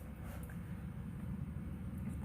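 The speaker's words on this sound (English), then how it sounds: "There's a really loud truck getting ready to drive by." Loud truck rumbling past outdoors, a continuous low broadband roar that holds steady and close throughout, with no voices over it.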